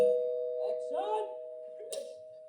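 A doorbell chime rings out with a sustained electronic tone, while voices murmur briefly over it.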